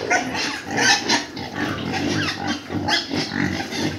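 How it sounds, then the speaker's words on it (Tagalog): Pigs on a farm grunt and snuffle close by, a continuous overlapping chorus of rough oinks with a few louder grunts standing out. "Ngayon, baboy na."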